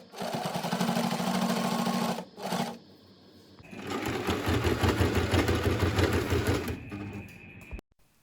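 A sewing machine stitches a bag made from leftover fabric, whirring loudly in two sustained runs separated by a short pause and a brief burst, with a low mechanical rattle.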